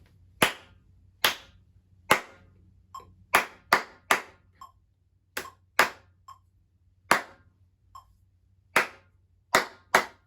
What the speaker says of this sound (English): Counting and clapping number 11.